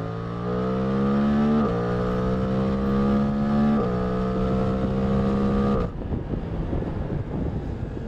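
A Suzuki GSX-8R motorcycle accelerates hard on a windy day, its engine note climbing steadily through three gear shifts before cutting off abruptly, leaving only wind rushing over the microphone.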